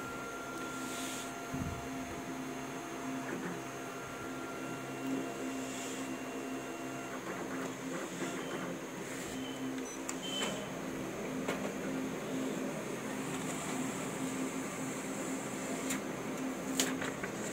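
A Kyocera TASKalfa 1801 copier prints a test page, giving off a steady mechanical whir and hum with scattered faint clicks and rattles.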